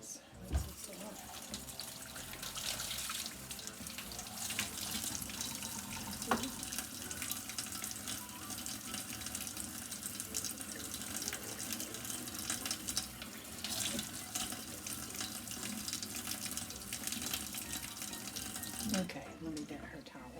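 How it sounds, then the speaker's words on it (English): Tap water runs steadily for about twenty seconds, rinsing a silicone doll in a bath, with brief splashes and a voice faintly audible over the flow. "Let's rinse this off."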